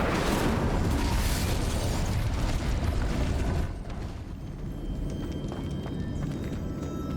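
A fiery Incendio spell blast in Hogwarts Legacy, a loud dense rushing burst of flame and crackle that fills the first half, then drops to a lower rumbling tail with scattered crackles, no talk.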